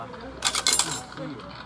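An object dropping onto a tray, a bright jangling metallic clatter lasting about half a second, close and loud, with quieter rattles trailing after.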